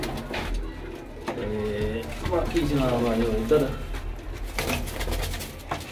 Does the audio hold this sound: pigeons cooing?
yes